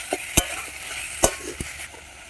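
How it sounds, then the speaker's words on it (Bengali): Ground cumin and coriander paste frying hard in a pan, a steady sizzle broken by a few sharp scrapes of a spatula stirring the masala, close and fairly loud with no talk. "মশলাটাকে ভালো করে কষিয়ে নেব।"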